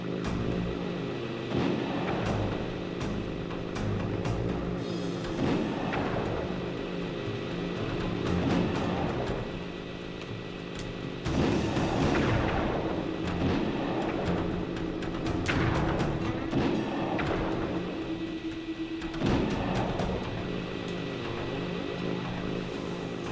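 Repeated tank blasts in the Sly 2 game boom out as bursts of broadband noise every few seconds over a constant engine rumble and hum, loud and close throughout.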